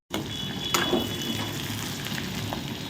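Vegetables and roasted gram dal sautéing in a pan for veg kola urundai, a steady broad frying hiss with a few faint clinks, close and continuous.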